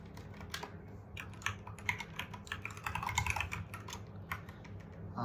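Rapid, irregular keystrokes on a computer keyboard while code is typed, a steady run of close, fairly quiet clicks with no voices.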